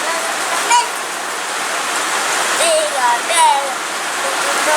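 Torrential rain in a backyard during a thunderstorm, a loud, continuous rushing roar of water close by, with people's voices briefly audible over it.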